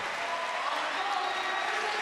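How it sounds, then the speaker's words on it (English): A gymnastics arena crowd at the 2015 Pan-American Games applauds a Guatemalan gymnast after his exercise, steady, fairly distant clapping heard throughout. "And a nice reception from the crowd."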